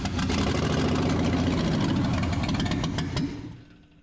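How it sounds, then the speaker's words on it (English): The engine of a 1971 GMC farm truck runs roughly with a low, uneven rumble and a sputtering rhythm, close and loud for about three seconds before dying away, with no talking. "So we got ignition."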